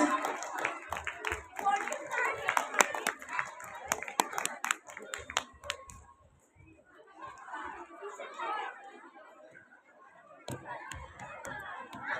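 Applause for students at a school New Year event in Jalpaiguri: scattered clapping from a crowd, mixed with chatter and talk over a loudspeaker. It fades briefly, then a second burst of clapping rises under the voices.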